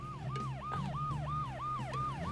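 Police car siren in the video game Roundabout, a quiet, rapidly repeating wail that rises and falls about five or six times in quick succession over a low engine hum.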